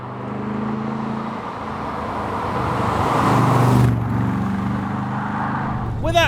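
A Chevy V8 in a Dax 427 AC Cobra replica rumbles steadily through its side pipe. The low engine drone swells toward the middle and fades, with a voice talking over it.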